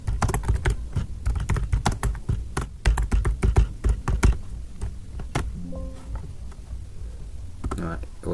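Computer keyboard typing while entering a district name into a file-save dialog in ArcGIS mapping software, a dense run of close clicking keystrokes for about five seconds, then sparser taps and quiet mouse-like clicks.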